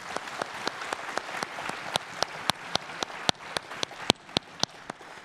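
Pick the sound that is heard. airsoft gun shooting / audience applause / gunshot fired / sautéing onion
audience applause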